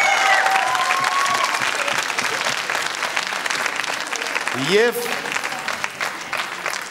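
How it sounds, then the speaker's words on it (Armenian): Audience applause for the Renaissance dance ensemble at a dance gala: dense, steady clapping from a large crowd fills the whole stretch while a voice speaks over it. "Բայց ծափարենք Ռենեսանս պարային համույթի։"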